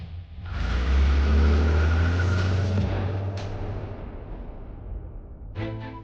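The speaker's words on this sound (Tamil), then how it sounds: "ஓ, இது பிரக்யாவோட காரா?" A car drives past close by, its engine swelling to a loud rumble and then fading gradually over several seconds. A brief tonal sound follows at the end, with no talking.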